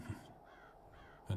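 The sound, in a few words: crow cawing in The Séance of Blake Manor video game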